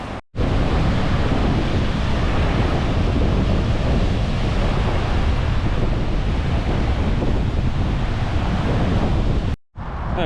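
Strong wind buffets the microphone in a loud, steady roar that fills nearly the whole stretch, breaking off briefly at the very start and near the end, with no talk.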